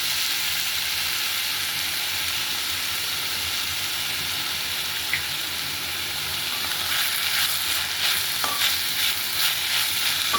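Onions and tomatoes sautéing in a pan for a prawn thokku, a continuous close sizzle and hiss with occasional stirring scrapes and clinks toward the end, no voices.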